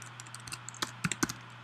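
Someone types on a computer keyboard up close, with a quick run of light, uneven key clicks over a faint background hum.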